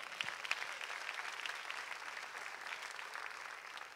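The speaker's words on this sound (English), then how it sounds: "Give God a hand clap." A church congregation claps hands together in steady, continuous applause that sounds somewhat distant and even, a dense wash of clapping that holds for the full few seconds with no voices over it.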